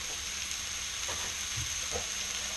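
Peri peri rubbed steaks fry in a cast iron skillet with a steady, close sizzle and a few soft pops and stirs, no voices over the cooking.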